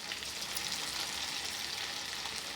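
Corn pakoras frying in hot oil over low heat, a steady, dense sizzle running evenly throughout with no voices over it.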